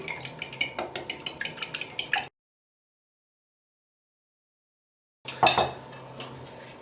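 Eggs with salt and black pepper whisked in a bowl give a rapid, even run of sharp clicking taps, then a silent gap and a few more louder clinks and scrapes.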